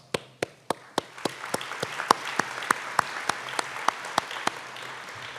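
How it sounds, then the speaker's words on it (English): Audience applause at an intern draft day event: a few sharp, evenly spaced claps ring out close by, over a soft, steady wash of crowd clapping. "Let's give them a big round of applause."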